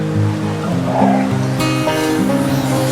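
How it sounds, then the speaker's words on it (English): Rushing water from a monsoon waterfall on a trek near Karjat roars steadily as a broad, constant wash for a few seconds, with no talking heard. "Look at this beautiful waterfall."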